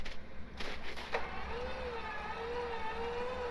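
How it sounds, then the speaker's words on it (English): A vehicle engine revs in reverse while being winched in an off-road recovery, a rising and falling whine under low rumble, preceded by a few short clunks. "Go ahead and give some throttle in reverse."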